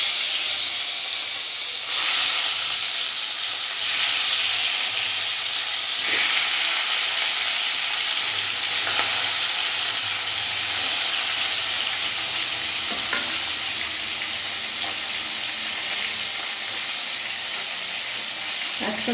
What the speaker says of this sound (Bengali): তেলটা আমার গরম হয়ে গেছে, আমি মাছগুলো এক এক করে ছেড়ে দেবো।